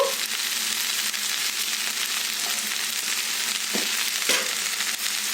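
Okra pieces with a pinch of turmeric sizzle in hot oil in a pan, a steady, dense frying hiss that holds close and even throughout, with a couple of soft clinks partway through.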